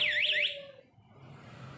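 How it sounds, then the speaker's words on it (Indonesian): Alarm siren on a Honda Beat FI scooter, set off by vibration, blares a rapid warbling electronic tone close by for about half a second, then stops and leaves only low background hum. "Kena getaran pun alarm akan berbunyi seperti ini."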